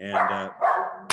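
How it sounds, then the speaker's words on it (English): A dog barks a few times close by in a home, the short bursts overlapping with someone talking, followed by one sharp final yap. "Excuse my dog."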